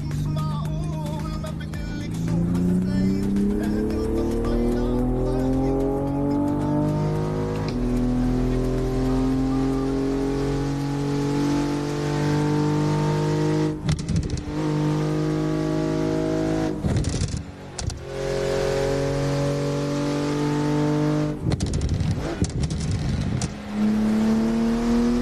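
A Porsche engine drones and revs in the Assetto Corsa racing game, rising through the gears with steady acceleration and several sharp breaks as it shifts, loud and continuous with no talk.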